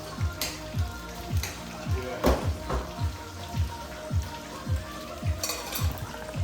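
A pot of Jamaican Sunday dinner bubbling and sizzling on a stove burner over high heat, a dense, steady crackle with regular rhythmic pops and taps close by, without talking.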